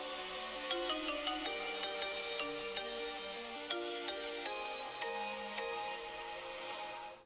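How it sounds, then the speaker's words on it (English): A phone ringtone plays the Hunter x Hunter theme as a bright electronic melody of plucked, bell-like notes over a steady backing, loud and close, running continuously with no talking. "if the old phone rings here, you hear the Hunter x Hunter theme"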